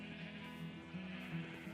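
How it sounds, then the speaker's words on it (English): A sheep in Minecraft bleats faintly over a steady low hum. No one speaks. "All right, sheep, come on over."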